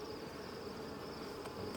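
Honey bees drone around an opened hive in autumn, a steady, close insect hum with no talk.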